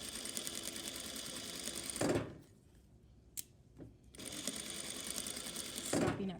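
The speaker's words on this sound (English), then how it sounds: "Okay, I am gonna back stitch, and then I'll sew all the way down." A home sewing machine runs in fast rhythmic bursts while sewing a seam with a back stitch, pausing briefly with small clicks between runs, close and clear.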